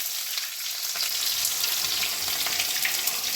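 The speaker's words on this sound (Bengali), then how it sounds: "পেঁয়াজটাকে ভালো করে ভেজে নেব।" Onion frying in hot oil with cumin and bay leaves, a dense continuous sizzle that stays loud and steady throughout, with occasional stirring scrapes.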